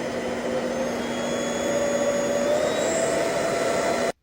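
A pet grooming vacuum running steadily at close range, a loud continuous whirring roar with a high motor whine that stays level for about four seconds before cutting off abruptly.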